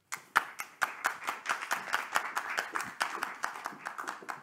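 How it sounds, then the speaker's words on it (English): A small audience applauds a speaker at an academic lecture, with sparse, distinct hand claps in a loose rhythm that stay fairly near and moderately loud throughout. "So please give a big applause to Stef van der Hoeven."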